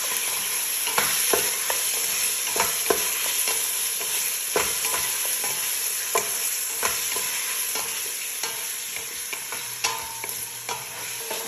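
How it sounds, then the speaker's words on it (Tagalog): Meat frying with ginger and garlic in a pan, stirred so a steady loud sizzle runs throughout, broken by frequent sharp scrapes and clacks of the utensil against the pan. "Haluin ko lang siya ng konti. At add ko na itong meat."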